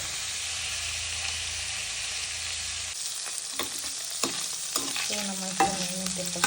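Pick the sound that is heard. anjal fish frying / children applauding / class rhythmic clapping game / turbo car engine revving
anjal fish frying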